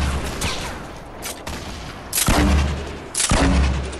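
Explosions and gunfire in a shooter video game, two heavy booming blasts with sharp broadband onsets about a second apart, loud and close, over a busy background of in-game combat noise.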